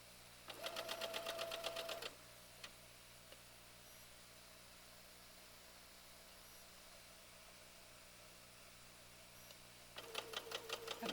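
A sewing machine stitches fabric bias edges in two short bursts, one at the start and one at the end, with a quiet pause between. The rapid, even rattle is fairly faint.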